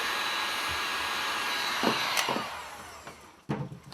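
A heat gun blows on heat-shrink tubing over cables with a steady airy whoosh that slowly fades, broken by a few short knocks and clicks of handling near the close.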